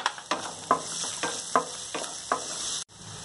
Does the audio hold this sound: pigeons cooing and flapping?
no